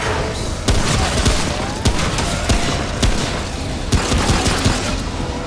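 Gunfire in Remnant: From the Ashes on hard mode, sharp shots cracking out at irregular intervals over a constant rumbling combat background, loud and close.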